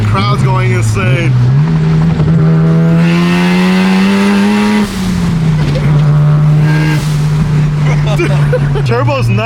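A right-hand-drive JDM car with a turbocharged engine revs hard and accelerates up through the gears, its loud, close drone rising in pitch, dipping at a shift, then climbing again over faint background voices.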